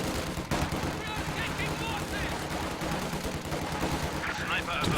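Machine gun fire rattles continuously in a Company of Heroes 2 battle, dense overlapping bursts of gunfire with scattered explosions and battle noise throughout, loud and unbroken for the whole stretch.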